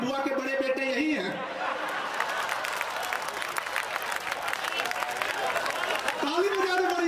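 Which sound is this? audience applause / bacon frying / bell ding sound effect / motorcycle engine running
audience applause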